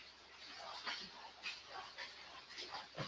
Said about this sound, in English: I got a dog coming